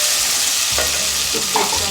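Tomatoes tipped into a pan of frying onions give a loud steady sizzle, with a soft thump as they land and a bit of stirring after.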